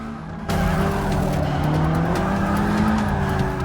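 A race car in Forza Motorsport 6 brakes hard, its engine droning loud and steady while tires squeal and skid continuously through the corner.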